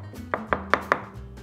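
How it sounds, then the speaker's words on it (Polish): A knife chops roasted eggplant flesh by hand on a board for baba ghanoush, giving about five crisp, evenly spaced chopping knocks close up with no talk. "I ten miąższ sobie jeszcze delikatnie poszatkujemy."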